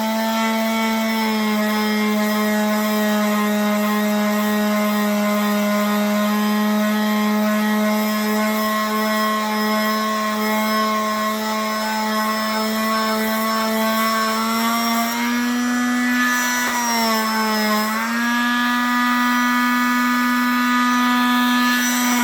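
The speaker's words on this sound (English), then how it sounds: "we're going to move on to the box and get it sanded" A power sander runs on a handmade wooden jewelry box with a steady, loud motor whine. Its pitch dips briefly about three quarters of the way through.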